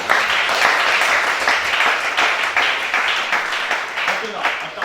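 A congregation at a night prayer vigil bursts into sustained, dense applause and clapping, loud and continuous throughout with rhythmic surges, mixed with cheering voices.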